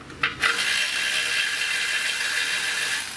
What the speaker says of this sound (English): Get you a ratchet, get you a, if you have the electric ratchets, get you one of them up there